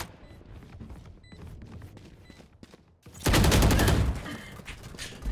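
Odin machine gun from Valorant in a ranked match, rapid automatic bursts erupting loudly after quieter game ambience, sustained dense firing for about a second before fading back.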